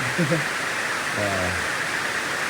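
Water runs from a tap or pipe at a rural home building site, a steady, even hiss that continues throughout while someone speaks briefly over it.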